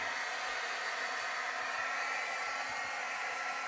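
A hair dryer drying craft paint blows a steady, even airy roar that stays constant for a few seconds without a break.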